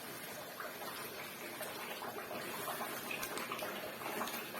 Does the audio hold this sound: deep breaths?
no